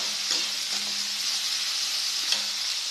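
Green chillies with crushed ginger and garlic sizzle steadily in a hot pan for Tamil vada curry, a dense continuous frying hiss with a few faint stirring scrapes, close and alone.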